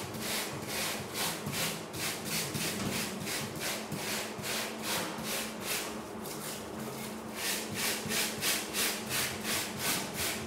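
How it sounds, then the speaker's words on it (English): A rasp works over a sculpture during a live demo, giving steady rhythmic scraping strokes, about two per second, close and continuous throughout with no talking. "Well, it's a rasp, but it is a wire brush."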